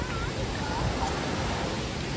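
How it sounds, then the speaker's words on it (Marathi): Somtirth waterfall near Nivendi, close to Malgund and Ganpatipule, pours with a steady, dense rush of water that fills the whole clip, loud and close with no breaks. "तर हा धबधबा इथून वाहत येथून शेवटी त्याचं ओहळात किंवा ओढ्यात रूपांतर होऊन मग तो खालच्या बाजूला वाहत जातो"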